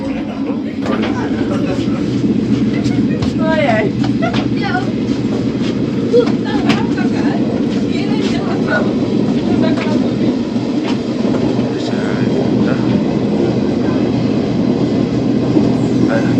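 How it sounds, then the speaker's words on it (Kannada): A train from Bengaluru rumbles steadily along with a continuous low roar and faint rhythmic clatter, the steady noise of riding inside a moving carriage. "ಬೆಂಗಳೂರು ಟ್ರೈನ್ ಮೂವ್ ಆಗ್ತಿದೆ"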